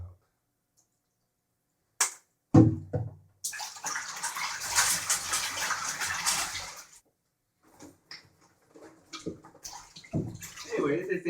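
Latex being swished around by hand in soapy water while washing a spandex/lycra trisuit, with bursts of sloshing and splashing that come and go between quieter pauses, close and moderately loud.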